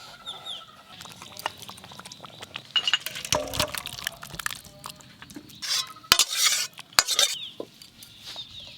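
Cooked potato dum malai curry finished with ghee is poured out of the cooking pan, giving soft wet slops with scattered metallic clinks and scrapes of utensils against the pot, fairly close and without talk.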